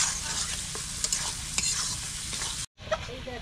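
Raw sea fish from the Andaman Islands frying in oil and spice paste for a curry, a steady close sizzle with scraping stirs of a spatula in the pan, briefly cut off near the end.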